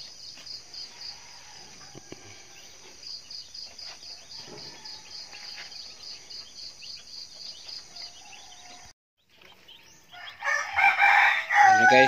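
Two-day-old baby chicks peep in a brooder left without light during a power outage. Their thin, high, evenly repeated cheeps run steadily near the listener, then give way to a louder, rougher burst of noise near the end.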